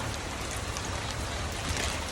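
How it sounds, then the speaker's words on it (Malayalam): Steady rain falling around a house surrounded by floodwater, with a constant, dense hiss, close and even throughout, with no voices. "നിർത്താണ്ട് പെയ്യുന്ന മഴ"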